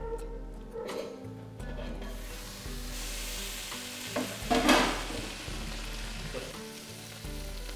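Chopped vegetables, including potatoes, sizzle softly in a pan while a spoon stirs and scrapes through them. The frying is quiet and steady, with a faint hum underneath.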